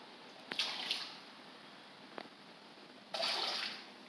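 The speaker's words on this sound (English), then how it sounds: "He's gonna come up to splash." Fish splash at the surface of a small DIY aquarium: a few brief close drips and slaps, then a louder watery splash lasting about half a second, over quiet background hiss.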